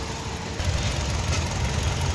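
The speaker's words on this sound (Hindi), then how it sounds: "देख सकते हो कैसा मिसिंग कर रहा है" A car engine idles unevenly with a misfire that worsens when the AC is switched on, a steady low rumble with irregular knocking pulses, close and fairly loud throughout.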